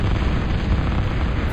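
Bomber raids in the real-time strategy game Total Annihilation, with missile towers and air plants under attack: a dense, continuous rumble of low booming explosions, steady and loud throughout with no talk.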